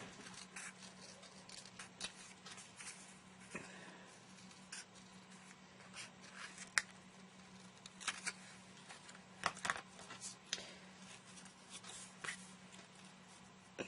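Paper being cut for a fairy stamp-and-die craft project, with irregular soft snips, rustles and small sharp ticks coming close but quietly, some louder cuts bunched near the end, and no voices.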